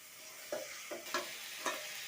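Cauliflower with spices is stirred in a pan, where a quiet steady sizzle carries four distinct scraping spatula strokes spaced about half a second apart.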